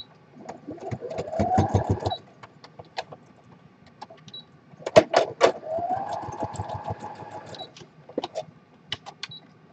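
A sewing machine stitches a small word in two close, rapid bursts of mechanical whirring with fine clicks, joined by scattered shorter taps and pauses between runs.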